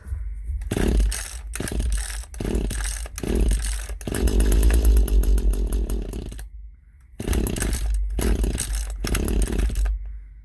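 A rototiller engine catches and runs after a pull-cord start, a loud rough buzzing snarl that cuts out in gaps and revs up again, close by.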